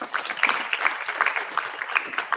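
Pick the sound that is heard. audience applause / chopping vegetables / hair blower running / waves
audience applause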